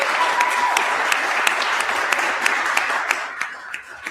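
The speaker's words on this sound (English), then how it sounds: "Round of applause for all their hard work." A conference crowd breaks into applause at an awards moment during a livestreamed event, dense steady clapping with crisp individual claps near the front, gradually thinning toward the end; a faint voice or tone lingers early on.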